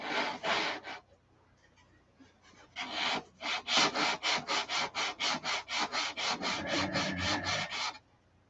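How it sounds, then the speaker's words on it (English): Sandpaper is rubbed by hand across the body of a Viper car in a rhythmic series of close, rasping back-and-forth strokes. A few strokes come first, then a pause, then a long steady run of evenly spaced strokes. "because we're going to sand on this side."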